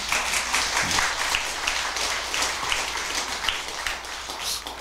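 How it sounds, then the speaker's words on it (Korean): Audience applause at a Buddhist dharma talk in a temple hall, steady, moderately loud clapping from a crowd that holds evenly throughout. "박수 소리가 몇 사람은 억지로 치는 박수 같다"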